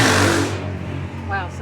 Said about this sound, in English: somebody's riding by a motorcycle or dirt bike